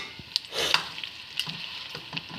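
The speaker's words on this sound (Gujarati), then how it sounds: "ઘીની અંદર નાખી દેવાનું થોડીક વાર એને શેકવાનું" Dates and dry fruits roast in ghee with a gentle sizzle, broken by a few stirring scrapes and clinks at close range, with no voice.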